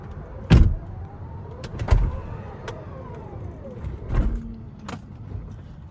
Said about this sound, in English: then you can hit close all and look how cool it sounds